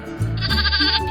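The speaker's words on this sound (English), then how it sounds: "The Shropshire Sheep." A Shropshire sheep, a hornless breed raised for wool and meat, gives one loud, close, wavering bleat lasting about a second, with nothing else heard.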